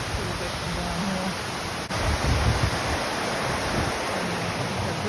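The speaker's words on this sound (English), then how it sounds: "You can see the water falling over the dam a little bit from down here." Water falls over a dam below a gorge on a hiking trail, a steady hissing roar heard from a distance, with a brief dip and some low wind rumble.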